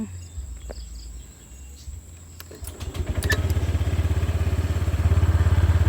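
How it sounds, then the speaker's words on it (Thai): A motorbike rides out through rural orchard countryside, its engine rising from a quiet start into a steady, close, pulsing drone, while insects chirp continuously in the background. "เดี๋ยวผมกับจิพาพี่น้องขี่รถ ไปชมบรรยากาศนะครับ"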